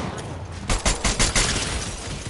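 A rapid burst of gunfire in Fortnite, several sharp shots in quick succession, loud and close, followed by a noisy rumbling tail.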